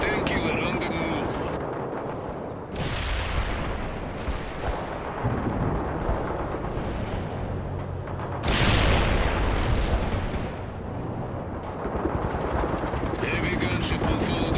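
A Mi-24 gunship making an attack run in the Cold War strategy game World in Conflict, with dense, roaring bursts of gunfire and explosions layered over rotor drone, loud and sustained, with radio-style voices speaking throughout.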